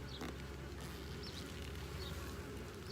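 Honey bees buzz around a small mating nuc, a steady close drone of many wings with no voices.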